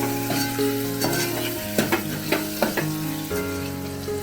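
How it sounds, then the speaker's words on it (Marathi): Diced potatoes frying in spice masala in a pan, a loud close sizzle broken by several distinct scraping stirs of a spoon against the metal. "आता आपण ह्याच्यामध्येच बटाटे टाकून घेऊया बटाटे पण थोडेसे परतून घ्यायचे मसाल्यामध्ये"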